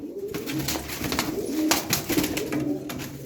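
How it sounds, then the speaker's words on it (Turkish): Several banded bango pigeons coo together up close, their throaty rolling calls overlapping into a steady murmur with a few light rustles and taps. "Burada kuş güzeli bir takım bangomuz var."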